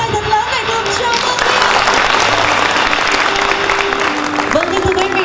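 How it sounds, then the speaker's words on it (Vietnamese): Wedding guests applauding the bride and groom at the reception, a sustained wash of clapping from a crowd, with music and a voice faintly underneath. "Vỗ tay thật lớn để cùng chào mừng."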